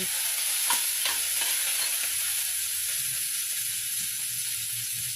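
Garlic and onion sautéing in a pan for a vegetable dish with meat and beans, a continuous close sizzle with a few light clicks of a utensil against the pan.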